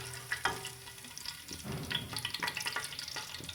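Whole cumin seeds and spices lightly roasting in a dry pan give faint crackling and soft sizzling. Small pops come in irregular bursts, and a spoon stirs them now and then.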